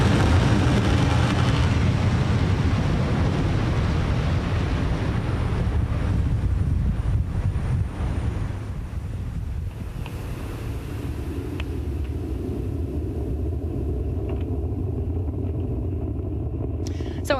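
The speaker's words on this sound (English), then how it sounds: "Falcon 9 has successfully lifted off from Launch Complex 39A at Kennedy Space Center" SpaceX Falcon 9 rocket lifting off from Launch Complex 39A at Kennedy Space Center, a loud, dense, wind-buffeted roar that eases after several seconds into a lower, steady distant rumble.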